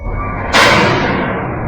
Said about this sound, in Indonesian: disusul terdengar seperti suara ledakan dari depan pos